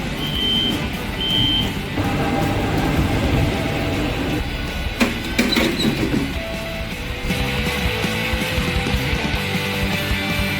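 Loud rumbling of a Buenos Aires Subte train pulling into Perú station, with screeching and clanking metal, a brief tonal beep, and steady mechanical roar throughout.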